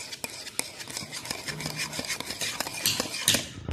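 A spoon scrapes and stirs through thick yogurt marinade with mixed spices for Lahori chargha chicken, giving close, steady wet scraping strokes with small clinks of metal against the bowl.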